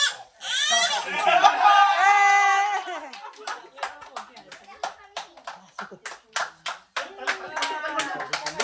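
At a promotion celebration, a small group breaks into clapping after a child's cry and some talk, the claps coming as close, distinct rhythmic bursts.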